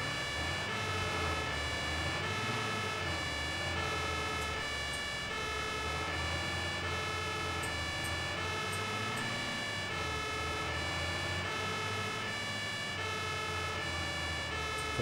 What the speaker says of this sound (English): Sirens. Let's go.